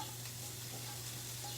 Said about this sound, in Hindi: अब इसमें डालेंगे हम अपना ग्रेट किया हुआ पनीर।